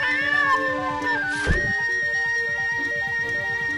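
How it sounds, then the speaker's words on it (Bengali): A cat meows clearly over steady background music, a drawn-out cry close to the listener. "এই বলে বজ্রমুকুট সেই মিষ্টি একটা বিড়ালকে খেতে দেয়"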